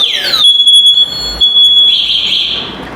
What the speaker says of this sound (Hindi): और अलार्म बजना शुरू हो जाता है